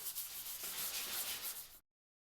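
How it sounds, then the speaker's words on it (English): Concrete countertop edge being sanded smooth with a Z grit disc, a steady close abrasive rubbing hiss that runs evenly without pause before cutting off abruptly. "sanded smooth using either a gem pad or a Z grit disc"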